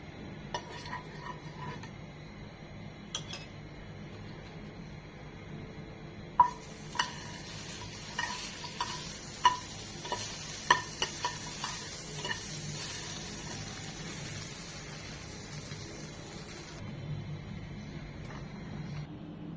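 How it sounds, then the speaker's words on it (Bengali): Bread slices frying in butter in a pan for a chicken sandwich, a soft steady sizzle running throughout with a few light clinks and scrapes of a utensil against the pan. "ভেজে নিতে হবে পাউরুটিটা বাটার দিয়ে"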